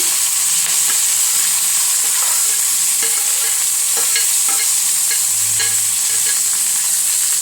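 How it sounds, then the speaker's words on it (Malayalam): Onion, shallot, ginger, green chili, curry leaves and garlic fry in hot oil in a pan, giving a steady loud sizzle with scattered scraping and clinking as a spoon stirs them, no voices. "സാധനങ്ങൾ അതിനകത്തിട്ട് നന്നായിട്ട് നമുക്ക് ഇളക്കി കൊടുക്കാം"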